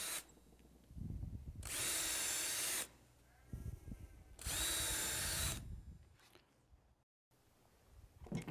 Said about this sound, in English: running the drill down through the holes.